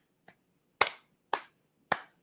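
Four sharp hand claps, the first soft and the next three louder, spaced roughly half a second apart in an otherwise quiet room, with no voices.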